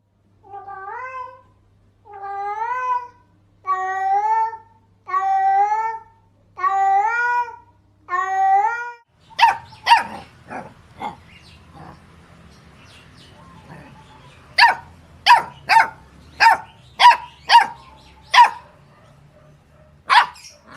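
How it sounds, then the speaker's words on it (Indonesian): A cat meows several times in a slow, even series, followed by a dog barking in a run of sharp, close barks. "Jika anjing itu menggonggong"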